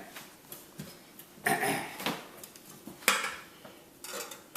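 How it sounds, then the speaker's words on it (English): Metal pliers clank and scrape against a roasting pan's handles as they are pulled down and tightened, giving several short, close metallic clatters and knocks at irregular intervals over a quiet room. "Taking the pliers, holding the pan firmly, pull down and tighten as best you can."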